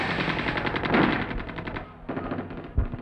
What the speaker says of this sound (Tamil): துப்பாக்கி சத்தம்,